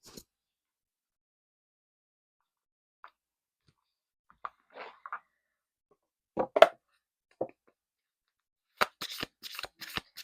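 Tarot cards shuffled by hand before a card is drawn: faint scattered flicks and snaps in near silence, building into a quicker run of crisp card riffles at the end.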